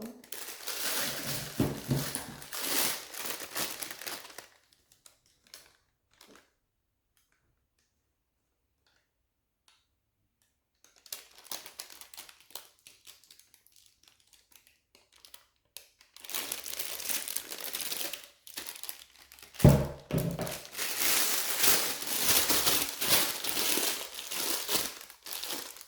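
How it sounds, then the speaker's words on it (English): Plastic piping bag crinkling and rustling as glaze for vegan pumpkin spice scones goes in, in bursts of handling separated by a quiet stretch, close and fairly loud. "for our glaze, we are going to put our glaze into a piping bag."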